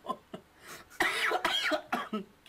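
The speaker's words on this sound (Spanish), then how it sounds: "se ríe y se empieza a toser por ahí y se muere" A man's fit of coughing in a Mexican comedy sketch: several sharp, close coughs in a quick irregular burst, loud and raspy, with no talk over them.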